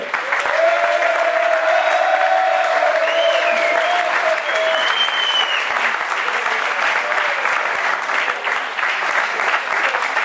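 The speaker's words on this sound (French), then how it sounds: "Je vous demande d'applaudir Isabelle Madron." Sustained applause from an audience at a corporate karting challenge awards ceremony, steady and fairly loud throughout with a faint voice and a few higher tones briefly rising above the clapping.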